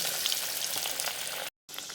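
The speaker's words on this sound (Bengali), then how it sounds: "এবার আমি কাটলেটগুলো এভাবে আস্তে করে ছেড়ে দেবো তেলের ভেতরে" Cutlets fry in hot oil over a medium gas flame, a steady close sizzle with brief crackles, cut by a short gap of silence near the end.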